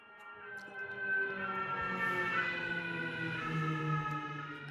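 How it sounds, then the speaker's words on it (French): A fire engine's siren sounds as the truck leaves a nearby fire station, a sustained tonal wail with steady harmonics that holds at moderate loudness for the whole stretch, heard from some distance with no voices over it. "J'ai la caserne des pompiers qui est pas loin. Donc quand ils partent en intervention, on les entend."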